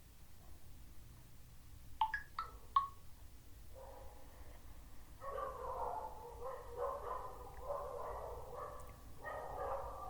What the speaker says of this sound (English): if you are able to hear some dogs barking outside